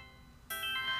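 A mobile phone ringtone starting abruptly in a quiet indoor dining scene in a Chinese drama series, a bright sustained electronic melody that rings on alone after a soft lead-in.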